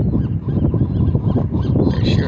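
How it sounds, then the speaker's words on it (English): Birds give loud honking warning calls in Newport Harbor, a rapid series of harsh goose-like honks close by, repeated throughout without any talking. "And the birds are sounding the warning."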